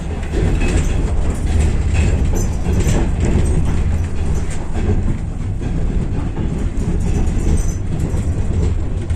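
Steady, loud rumble of a moving first-class carriage on the Kyiv–Lviv express train in winter, with continuous rattling and rhythmic clacking of wheels on the track throughout.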